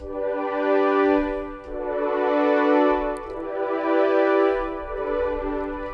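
A soft, warm synthesizer pad preset called Majestic Rise Pad swells through three slow, sustained chords, each rising and fading gently, played alone with no talking.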